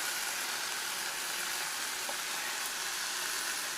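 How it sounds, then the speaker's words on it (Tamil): Mint leaves sauté in a pan with a faint, steady sizzling hiss that holds evenly throughout. "இது நல்லா இப்போ வதங்க ஆரம்பிச்சிச்சு அப்படியே வதங்கட்டும்"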